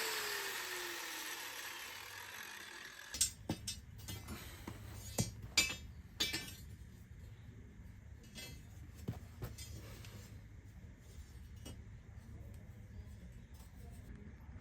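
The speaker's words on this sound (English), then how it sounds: "There's my rebar laid out in this direction." Steel rebar pieces for an outdoor shower base are laid out with a series of faint, irregular metallic clinks and taps over a low background hum.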